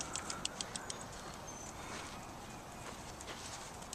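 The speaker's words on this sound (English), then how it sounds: "could you bring your horse over here, Lisa?" A horse walks on an arena surface during a riding lesson. Its hooves clip-clop in an even, distinct rhythm at first, then fade into faint, scattered steps under background noise.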